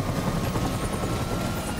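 A helicopter in the video game Death Stranding, a dense, continuous rotor roar that sounds close and loud throughout, with no talking.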